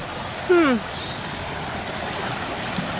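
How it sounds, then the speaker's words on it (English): Floodwater rushing steadily across a flooded playground, a continuous broadband wash close by, briefly overlaid by a short voiced exclamation near the start. "That's a lot of water. Playground's flooded."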